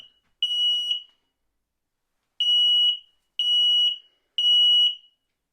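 An X-Sense smoke and carbon monoxide detector's test button sets off a piercing alarm in four loud, shrill beeps: one, a pause, then three in quick succession.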